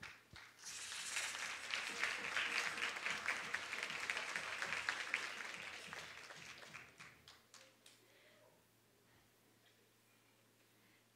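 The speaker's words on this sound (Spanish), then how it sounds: "con un fuerte aplauso" Audience applause for a teacher at a regional medal ceremony, a steady round of clapping from a crowd that lasts several seconds and then fades into a quiet room.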